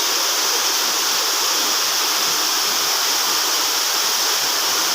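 Steady roaring rush of falling water, loud and continuous with a bright hiss, no voices or breaks throughout.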